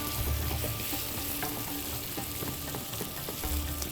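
Close, steady sizzling of minced meat frying in hot oil, with faint crackles and spatters throughout and no voices.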